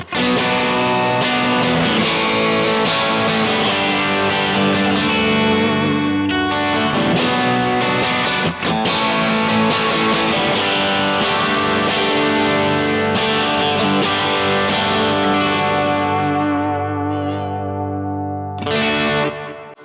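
Electric guitar through a Kemper Soft Shaper for an added gain stage, with warm, saturated distortion playing sustained chords and notes, thick and continuous, with a brief dip before a final ringing chord.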